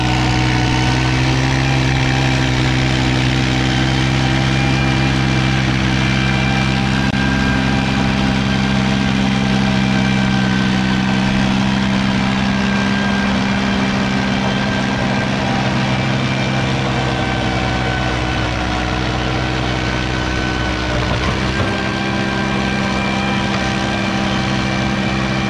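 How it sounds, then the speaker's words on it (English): An old Ford tractor engine running steadily, a loud continuous low rumble with a constant throbbing hum that holds at an even pace throughout, with no voices. "Now this is an old Ford tractor here."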